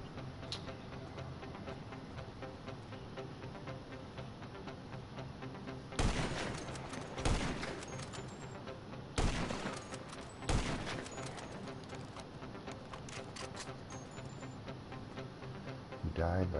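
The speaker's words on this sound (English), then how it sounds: "Several gunshots to the foot." Gunfire in the video game GTA comes as several loud, sharp bursts of rapid shots, spaced a second or two apart, set against a quieter stretch of game ambience and some talking.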